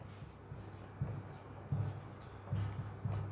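A chemical equation is written on a board in short, repeated strokes, roughly four bursts of soft scratching tapping spaced under a second apart, close and quiet with no voices.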